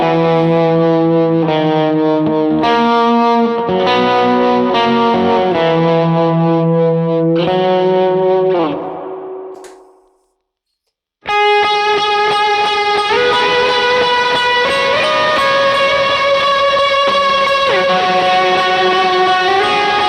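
Electric guitar runs through a TONEX capture of a DC30 G12H amp with a Prosonic, playing distorted chords and single-note lines loudly, fading to a brief silence before a sustained, driven passage resumes.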